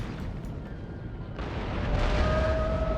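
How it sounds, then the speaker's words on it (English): Cannon fire in an Empire: Total War battle, a dense, continuous rumble of booming artillery that grows fuller and louder halfway through, with no distinct single shots standing out. "their cannons I think are shooting through their own horses"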